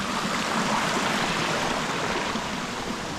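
Steady, dense rush of a stream flowing near a waterfall, close and continuous with no breaks, a broad even wash of water noise throughout.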